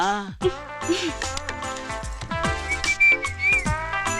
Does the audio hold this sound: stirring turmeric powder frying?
no